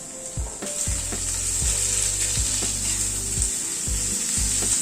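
Onions frying in a pan with Kashmiri red chili powder and ground coriander being stirred in, a steady close sizzle with repeated low scraping strokes of the spoon, no voices.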